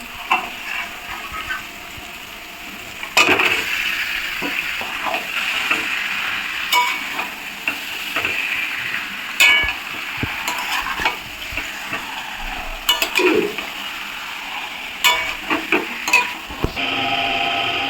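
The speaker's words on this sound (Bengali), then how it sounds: "এদিকে আমার মাংসের মশলাটা কষে গিয়েছে এবার মাংসগুলো দিয়ে দিচ্ছি" Meat tipped into fried spice masala in a pan at home, giving bursts of sizzling with clattering stirs and scrapes of a spoon against metal, louder thuds near the start, no talking.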